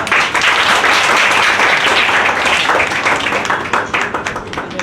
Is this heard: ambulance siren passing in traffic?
no